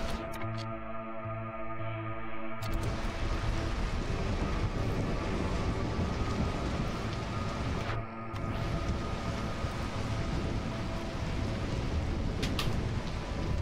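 Steady, dense rain with a low thunderstorm rumble fills the scene in the city-building game Against the Storm, continuous and fairly close, with only a brief dip partway through.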